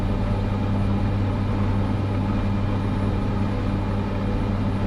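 An aircraft engine holds a steady high idle in Microsoft Flight Simulator 2024, a loud continuous drone with a low hum and no change in pitch.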